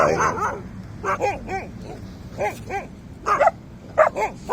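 Dogs bark in short, irregular bursts, several sharp woofs and yips close by, with brief pauses between them.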